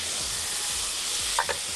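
A utensil turns rice over in a pot on the stove, the cooking sizzle and hiss steady underneath, with a couple of short, sharp scrapes near the end and no talk.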